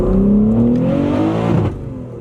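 BMW M3 Competition engine revving loudly from inside the cabin, a rising harmonic whine climbing in pitch over about a second and a half, then easing off as the revs drop.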